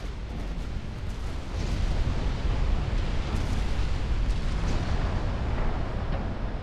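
Battle cruiser gunfire in a naval strategy game, a continuous loud rumble of heavy gun blasts rolling into one another and swelling midway, with no voices.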